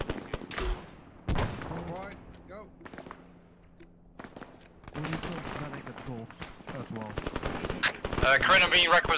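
Gunfire in the military shooter Arma 3, bursts of rapid automatic fire and sharp single shots, some loud and near, with voices talking over the battle.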